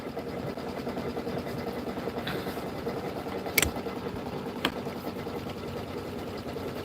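A slowed-down embroidery machine stitches a bench pillow border, a steady close mechanical hum with rapid needle ticking, broken by a couple of brief sharp clicks.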